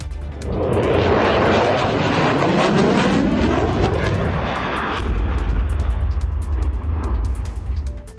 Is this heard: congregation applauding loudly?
no